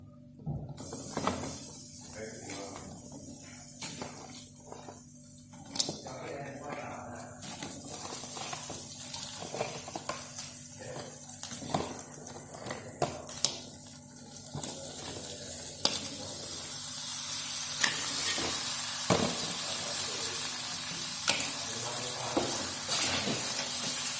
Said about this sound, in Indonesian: Sekarang kita masukkan kepitingnya.